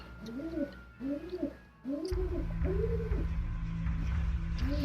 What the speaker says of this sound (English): we have a pet pigeon named the Pidge, or Harrietta.